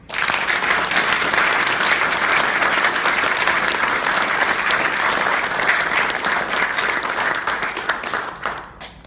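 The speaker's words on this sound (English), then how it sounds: "Let's give one more round of applause for Anuj" A ceremony crowd at an Eagle Scout Court of Honor gives a sustained round of applause, thick and even for about eight seconds before thinning out and fading at the end.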